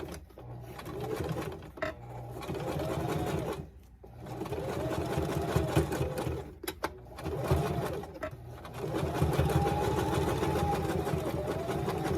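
Domestic sewing machine running steadily while stitching a 1/4 inch seam on a pouch, with a rhythmic mechanical whir interrupted by several brief stops and restarts, close and fairly loud, with no talking.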